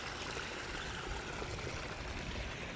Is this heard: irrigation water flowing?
yes